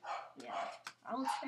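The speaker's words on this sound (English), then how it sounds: "Sorry, that's my dog barking." A pet dog barks in a room, several quick yaps and barks close by, overlapping with a person speaking.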